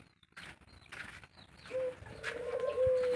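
Doves on a dove farm give a clear, close cooing call that swells in the second half, over faint background bird chirps and scattered noises.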